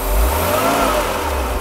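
A 1993 Mercedes W463 300GE engine revs steadily and loudly throughout, a continuous close-up drone from the engine bay during a post-rebuild test, with no pauses or voices.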